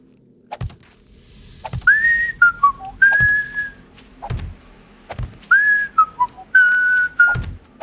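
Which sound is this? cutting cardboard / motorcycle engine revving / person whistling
person whistling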